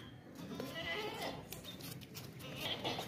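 A healthy male goat at a livestock market bleats intermittently amid steady crowd and market noise, close but partly masked by the busy background.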